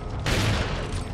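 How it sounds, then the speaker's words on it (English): A single shotgun blast in Resident Evil 4, a sudden loud broadband boom that rings out and decays over about a second, close and alone. "Taste my shotgun."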